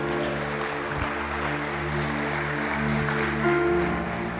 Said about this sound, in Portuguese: Aplaude Ele por isso, em nome de Jesus.